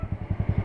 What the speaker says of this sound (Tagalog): Grabe ang lakas ng motor ni Dimber.